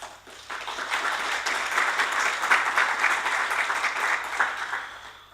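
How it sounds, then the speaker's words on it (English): Audience applause at the opening plenary of a RIPE NCC SEE 6 conference, a steady roomful of clapping that swells after a soft start and holds for several seconds, moderately loud with no voices over it. "Big applause."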